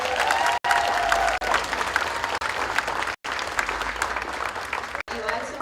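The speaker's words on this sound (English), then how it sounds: "One last round of applause" Sustained applause from an audience at a high school's 50-year honorary service awards celebration, dense and steady, broken by a few brief cuts, with some cheering mixed in.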